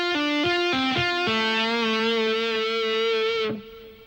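Distorted electric guitar plays a tapped phrase: a quick burst of sharply articulated notes followed by one long sustained note that rings for a couple of seconds before cutting off, played alone.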